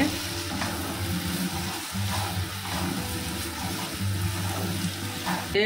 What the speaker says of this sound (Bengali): দু মিনিট নেড়ে নেব এভাবে